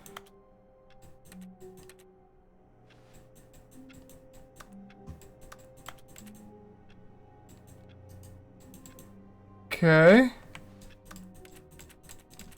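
A short, loud burst of rapid computer keyboard clicking, close up, standing out against a quiet hum, with a brief spoken word earlier, during play of the video game The Stanley Parable.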